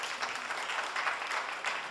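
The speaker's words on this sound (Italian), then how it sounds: "un bel applauso alla nostra Federica Bertello." A studio audience at a live TV casting show gives a short, steady round of applause, a soft even patter of many hands at moderate distance with no voices over it.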